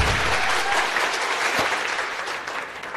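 Audience at a business ceremony applauding a leader, a dense, loud burst of clapping from many hands that continues steadily and tapers slightly toward the end.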